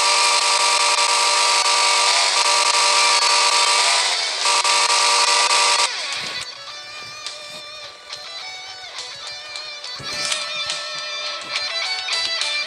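A chainsaw in the video game Slendytubbies 3 gives a loud, steady, buzzing roar for about six seconds, then cuts off and leaves quieter tonal game sounds.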